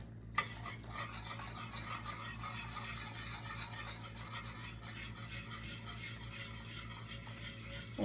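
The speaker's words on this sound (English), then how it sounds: "And whisk it around until it melts." Grated Parmesan whisked into Alfredo sauce in a pot with the heat off, a continuous faint scraping swish of the whisk against metal over a low steady hum.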